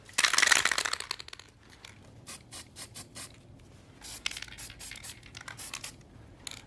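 A short, bright hiss of spray paint from an aerosol can bursts out at the start, coating corsage pins, then gives way to quieter scattered scraping and handling noises.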